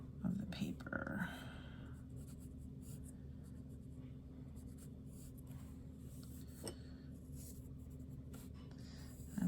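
Pencil dragged across paper while laying down dark Bargue-style shading marks, a steady soft scratching rub that continues almost unbroken for the whole stretch, fairly close, with a brief louder scrape at the start.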